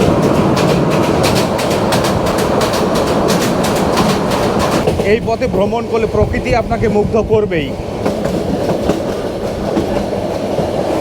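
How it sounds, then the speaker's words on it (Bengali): Sonar Bangla Express train from Dhaka to Chattogram running near Bhairab, a loud continuous rumble with rhythmic clatter of wheels on rails and a passing metallic whine, while someone talks over it. "গাইস, এখন আমাদের ট্রেন পার করতেছে ভৈরব"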